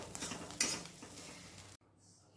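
Thecha, a coarse green chili chutney, stirred once in a pan over a low flame, a short close scraping and clinking of a spoon against metal with a soft sizzle, then an abrupt near-silence.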